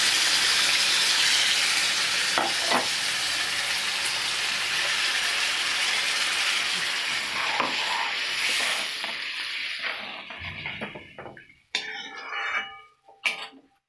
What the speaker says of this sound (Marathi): आपलं कुकरमध्ये पालकाचं उकळलेलं पाणी होतं, आपण ते यात सोडून देणार आहोत